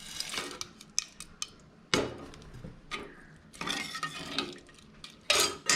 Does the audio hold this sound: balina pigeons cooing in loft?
no